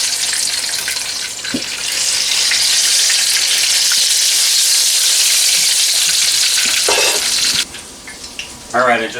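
Food fries in a wok with a loud, steady sizzle that runs for several seconds, then cuts off abruptly and is followed by a few clinks and a short burst of voice.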